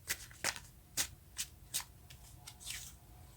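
A deck of tarot cards being shuffled by hand in short, crisp riffling bursts, about six distinct shuffles in steady rhythm, close and clear over a quiet background.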